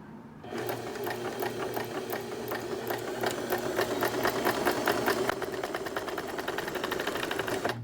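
A foot-pedal sewing machine stitches in reverse in fast, even mechanical clatter. The run starts abruptly after a brief pause and keeps a steady pace and loudness throughout, with no speech.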